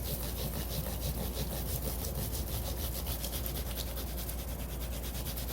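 Close, continuous rubbing and scraping of 1500 grit sandpaper on guitar frets in quick back-and-forth strokes, steady and fairly quiet, with no voices.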